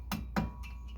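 Two light hammer taps, a short pause between them, seat a front wheel bearing on a 2005 Cadillac Escalade in a garage repair. Each strike is a close, short metallic knock, and faint ringing follows.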